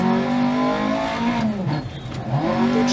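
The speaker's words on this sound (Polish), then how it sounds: "teraz silnik jest głośny." A rally car engine in the racing game Dirt Rally 2.0, heard on a New Zealand stage, drones loud and steady, its pitch shifting through gear changes and throttle lifts, with no talk over it.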